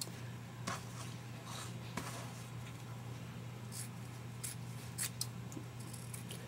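Scissors snip through the tails of a ribbon bow, giving a few soft, scattered clicks and cuts over a low steady hum, close and quiet with no one talking.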